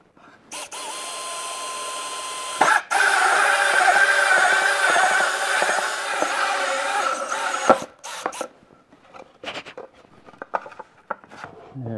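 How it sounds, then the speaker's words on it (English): A 3-inch hole saw cuts through a rusted part in a shop, a loud sustained grinding whir of about five seconds that starts and stops abruptly, followed by shorter bursts and scattered clanks. "I'm going to just take a 3-inch hole saw and relief through this so this will sit flat on my table"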